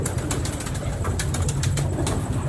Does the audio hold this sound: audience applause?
no